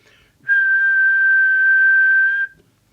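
One steady, loud whistled tone into a York JCB867 CB radio transmitter, held for about two seconds at a constant pitch, starting and stopping cleanly against near silence.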